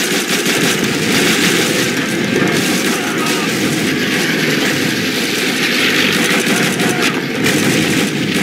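Dense, loud gunfire rattles continuously through a Call of Duty: Roads to Victory battle on the PSP, with machine-gun bursts and booming explosions over a constant wash of combat noise.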